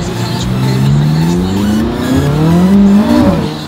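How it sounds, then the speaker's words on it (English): Tires squeal and skid as a McLaren 570S swings through a U-turn, the engine revving loud and close with rising and falling pitch for several seconds, with faint voices in the car. "I'm doing a U-turn"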